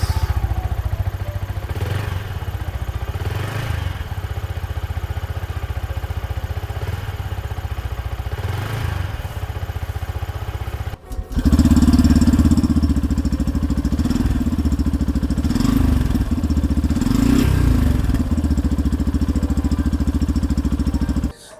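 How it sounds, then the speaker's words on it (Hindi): Exhausts of a Yamaha FZ-S FI Hybrid and a Yamaha MT-15 motorcycle running steadily, one engine note after another with a clear switch in tone midway, loud and close with no talk. "दोनों का एग्जॉस्ट देखा जाए तो लुक वाइज भी आपको अलग मिलता है और इनकी जो आवाज़ है वो भी अलग है"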